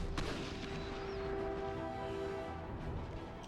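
Massed troops of a Netherlands army firing in the Imperial Destroyer strategy game, a sharp volley crack at the start followed by a rolling rumble of musket fire and steady battlefield din, moderately loud with no voices.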